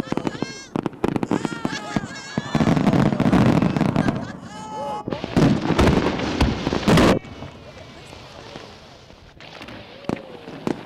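A Japanese shell firework bursts in loud, booming explosions with dense crackling for about seven seconds, then fades to a quieter, rumbling tail.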